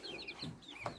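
Backyard hens, part of a flock that includes Padovana chickens, give short soft clucks and warbling calls close by, with no talking.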